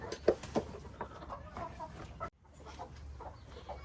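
Broody hens, including a cream legbar, cluck softly inside a backyard coop; a few short, faint clucks stand out early over quiet background noise.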